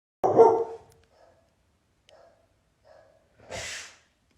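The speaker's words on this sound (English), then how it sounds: "was my dog, sorry" A pet dog gives one loud close bark, a few faint snuffling sounds, then a second shorter bark, in an otherwise quiet indoor room.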